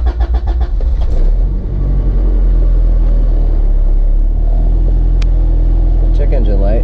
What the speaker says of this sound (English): So now we're just gonna start the car for a second.